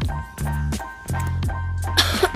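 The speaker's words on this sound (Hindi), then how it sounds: "खांसी का थोड़ा प्रॉब्लम हो रहा है" Several harsh, throaty coughs come in quick bursts close to the microphone, separated by brief pauses.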